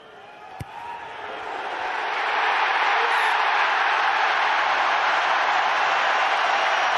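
A rugby stadium crowd at Ireland versus New Zealand roars after Carbery's kick goes through the posts. A broad, sustained wall of cheering noise builds over the first two seconds and then holds loud and steady.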